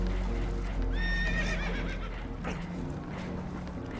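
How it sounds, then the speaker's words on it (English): Spooked horses in Red Dead Redemption 2 give a sharp, shrill whinny from a boat that is taking on water, with hooves clopping and a churning background of water and wind. "Horses are spooked, and we're taking on water."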